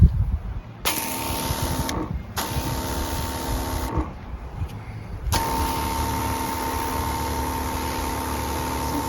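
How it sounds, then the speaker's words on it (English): A Ryobi 40V backpack sprayer runs with a steady motorized whine, its spray cutting in and out in several bursts before settling into a continuous run, close by and without speech. "This would be really good for spraying bug spray or a lot of product down."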